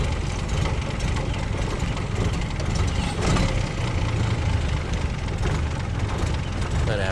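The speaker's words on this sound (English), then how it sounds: "so the cutout's now open. Let's see if I can accelerate" A pre-war Rolls-Royce engine with its exhaust cutout open accelerates, giving a loud, continuous low engine roar heard close up throughout. No one talks.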